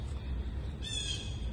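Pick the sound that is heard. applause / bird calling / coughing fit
bird calling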